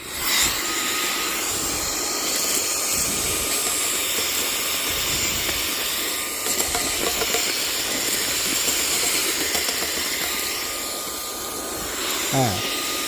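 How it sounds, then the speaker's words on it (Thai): A portable three-in-one turbo jet fan run as a vacuum at high speed, sucking up small stone debris: a loud, steady roaring hiss with rattling grit, continuous throughout with brief dips in intensity. "แล้วก็เรามาลองดูดเศษหินดูนะครับ เปิดเหมือนเดิมแล้วก็เร่งความเร็วนะครับ"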